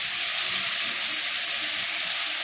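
Chopped onion and green chilli fry in a hot pan with a steady, even sizzle and hiss that holds throughout, with no voices.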